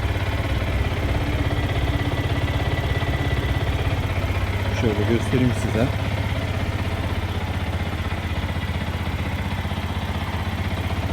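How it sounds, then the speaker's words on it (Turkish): Yamaha YZF R125 2015 motorcycle idling on its original exhaust, a steady, close, even putter with a brief blip midway, while someone speaks over it. "Yamaha R125 2015 model."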